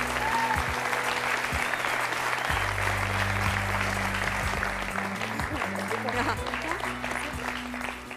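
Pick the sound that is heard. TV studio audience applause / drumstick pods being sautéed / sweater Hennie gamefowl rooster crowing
TV studio audience applause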